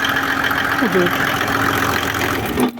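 A motor pump station engine drones steadily at mid pitch, continuously and fairly loudly, with a brief voice-like sweep partway through and a sudden drop near the end.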